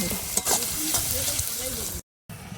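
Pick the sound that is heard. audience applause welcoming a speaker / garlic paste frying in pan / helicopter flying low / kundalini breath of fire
garlic paste frying in pan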